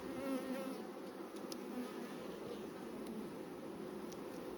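Honeybees buzz steadily inside an open, thriving beehive, making a dense, continuous drone that stays close and even throughout, with no talking.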